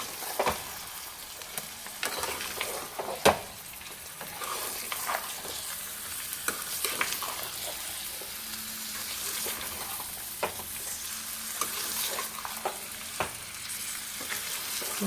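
One kilogram of mutton with ginger garlic paste fries in a hot pan while being stirred, giving a close, steady sizzling hiss dotted with sharp scrapes and clinks of the spoon; no one speaks.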